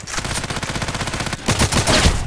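Rapid automatic gunfire from the shooter game Contract Wars, loud and close, rattling in a steady fast burst, a brief pause, then another heavier volley.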